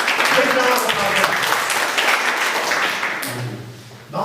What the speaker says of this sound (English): Let's give a big round of applause to the person who made those samosas.